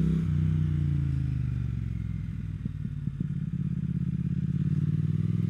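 A 2020 Triumph Speed Twin 1200 motorcycle engine revs up steadily in second gear out of a corner toward its 7,000 rpm redline, its low throaty drone rising in pitch, with brief clattering gear noise partway through.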